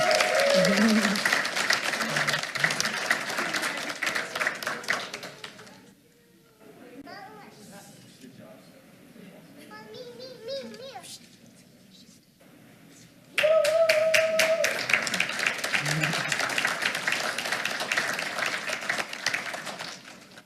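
Applause from the audience at a school board meeting honoring outstanding Tyler Legacy High School seniors, dense clapping at the start and again after a quieter stretch, broken by speech.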